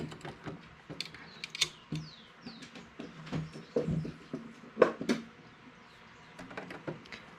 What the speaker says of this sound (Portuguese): Aciono a máquina para ela já selecionar. Então, ligo a máquina no KC.